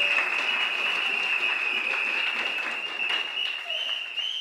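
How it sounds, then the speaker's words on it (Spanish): Audience applause at a regional oratory contest, a steady dense wash of clapping holding for several seconds at full level. "Fuerte el aplauso para el Centro de Eventos Carolina."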